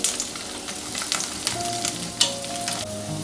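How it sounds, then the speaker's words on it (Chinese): Garlic cloves fry gently in oil over low heat, a steady close sizzle with light bubbling and a few soft clicks of stirring. "小火加蒜， 小火煸出香味儿"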